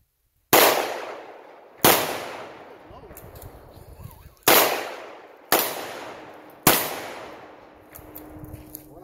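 Gunshots at an outdoor shooting range: five loud, sharp reports spaced a second or two apart, each with a trailing echo, and faint talk between the shots.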